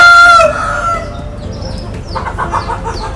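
A white Pengala fighting rooster of the Bhimavaram breed crows loudly and close at the start, a single long harmonic call, followed by softer clucking and bird sounds over a busy background.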